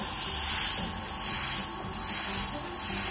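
An Affinity airbrush sprays with a continuous soft hiss of air from its compressor, swelling and easing slightly in a few gentle waves over a few seconds, close and without speech.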